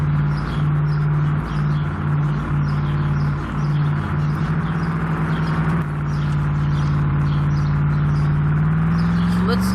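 A Ford Mustang in the Roblox Ultimate Driving racing game runs with a steady engine drone that gradually rises in pitch toward the end, continuous and loud with faint chirpy tones over it.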